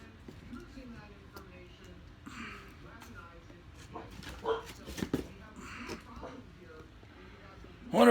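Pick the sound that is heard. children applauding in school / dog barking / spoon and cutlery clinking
dog barking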